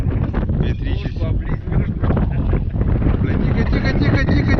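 Strong wind blows steadily across an outdoor riverside cooking spot during a fisherman's day outing, a loud continuous buffeting roar on the microphone that runs throughout, with voices talking over it.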